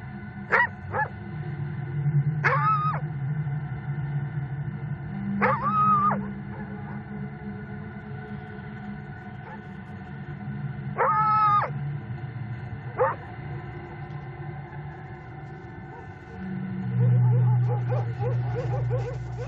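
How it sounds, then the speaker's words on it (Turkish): Stray dogs at night in wolf country bark and howl in scattered bursts, several rising and wavering calls spread over a steady low rumble, with a louder mixed outburst near the end. "Ama başıboş köpekler de kendi paylarını istiyor."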